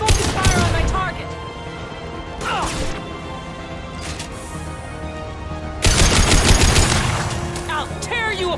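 Gunfire in a Mass Effect 2 combat scene, repeated bursts of shots and crashing impacts that swell loudly near the start and again toward the end, with a continuous din of battle sounds between.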